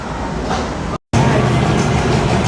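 Zephyr amusement park train ride at Dorney Park: a steady, loud rumble of wheels and carriages rolling along the track, with a brief dropout near the one-second mark before the continuous roar resumes.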